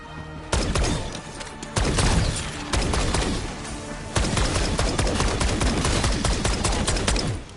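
Dense, sustained gunfire from weapons in Black Ops 6 Zombies mode, loud continuous rapid shots layered over heavy game effects with no pause across the whole stretch.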